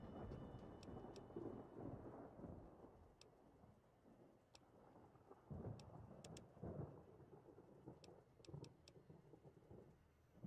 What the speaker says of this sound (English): Am I hallucinating thunder?